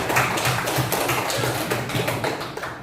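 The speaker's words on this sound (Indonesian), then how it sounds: "Oke, tepuk tangan semuanya." A classroom of children claps hands together in a dense, steady patter of close claps that lasts a few seconds.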